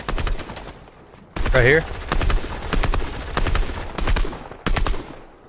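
Assault rifle fire in Fortnite comes in loud, rapid bursts that recur through the clip, with voices talking between and over the shots.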